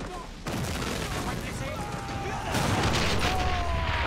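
Explosive mortar and artillery fire in the Men of War: Assault Squad 2 real-time strategy game, with a sustained, dense rumble of blasts and gunfire that swells louder partway through, plus faint whistling shells overhead.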